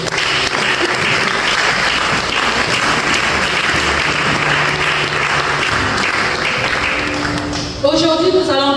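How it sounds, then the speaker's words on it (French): A conference audience at a women's church event applauds loudly and steadily throughout, with dense clapping under crowd noise and a voice cutting in near the end. "on acclame."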